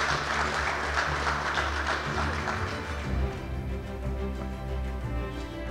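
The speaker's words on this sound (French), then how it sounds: "Une main d'applaudissement à Raymond, quand même." An outdoor group gives a short round of applause, with the clapping strongest early and thinning out after about three seconds, over the low, constant hum of a running truck engine nearby.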